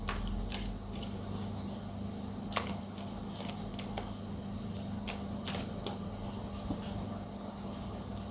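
Tarot cards picked up and handled during a career reading, sharp papery snaps and flicks at irregular intervals close by, over a steady low hum.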